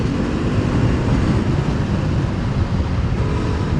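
Steady engine drone from a BMW F450 GS 450cc motorcycle under way just after a downshift, a dense continuous rumble that stays loud and even throughout with no voices.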